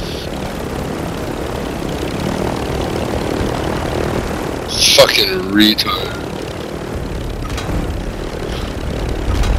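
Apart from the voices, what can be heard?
helicopter flying in Call of Duty video game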